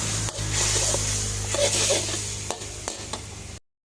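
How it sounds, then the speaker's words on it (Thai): Holy basil and a sauce of sugar and seasoning sizzle in a hot pan while a utensil stirs and scrapes, with a low steady hum beneath, then the sound cuts off abruptly. "แล้วเราใส่ข้าวไปผัด"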